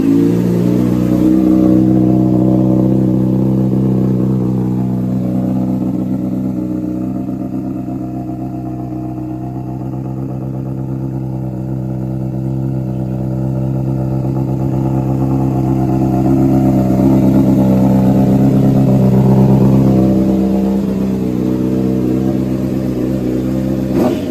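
A motorcycle with a Toce exhaust fitted with quiet core inserts starts cold and settles into a loud, close, throbbing idle, the revs sagging slightly mid-way then climbing again.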